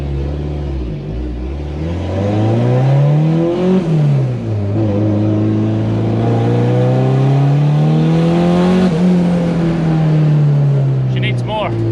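Turbocharged car pulling hard in gear during a boost test run: a loud, close engine drone climbing through revs, dipping briefly at a gear change and rising again over nearly twelve seconds, with a voice speaking over it.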